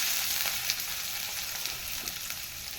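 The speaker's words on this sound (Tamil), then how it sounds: "எண்ணெய் நல்லா காஞ்சதும் இந்த வெங்காயம் சேர்த்துக்கலாம்" Chopped onions sizzling in hot oil in a kadai for chapati kurma, a steady bright crackle and hiss with small pops, close and continuous without talk.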